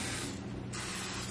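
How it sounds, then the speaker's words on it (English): Cooking oil spray hisses from an aerosol can into baking pans in a short, close, steady burst with a brief dip midway. "oil, cooking spray it's called, and just make sure that everything is well sprayed."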